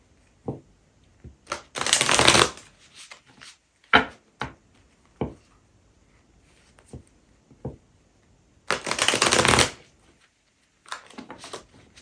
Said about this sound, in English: I pull out all the cards first.